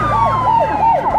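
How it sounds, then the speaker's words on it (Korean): Loud wailing emergency sirens sweep up and down continuously, close by, with a low vehicle rumble underneath, cutting off abruptly at the end. "사이렌 소리였다"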